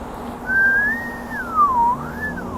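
A person whistles a short, clear melodic phrase that rises and dips smoothly over a low room hum, standing alone without talk.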